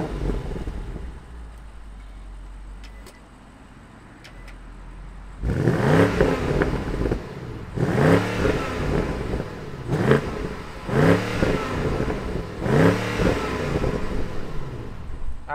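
A 2021 BMW M550i V8 firing up after a quiet idle hum, then a series of loud, close throttle blips rising and falling in regular revs, with no talking.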